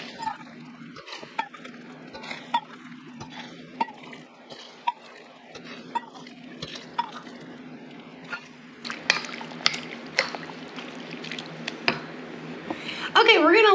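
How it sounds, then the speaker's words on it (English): Boiling water poured over crushed southern magnolia blossoms for homemade jelly, a light running splash and trickle with small clinks of a pot, and a voice speaking over it, growing louder toward the end. "we're gonna pour 8 cups of boiling water over them"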